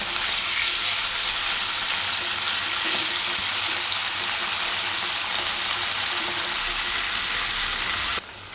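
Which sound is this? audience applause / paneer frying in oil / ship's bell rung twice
paneer frying in oil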